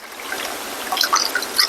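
Tap water trickling and splashing into a rice steamer in a home kitchen, a short steady pour with bright irregular spatters building toward the end, close and moderately loud.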